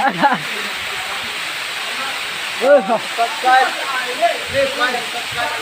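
Saisel waterfall in Cachar, Assam rushes as a constant broadband roar that fills the whole stretch, with several people talking loudly over it.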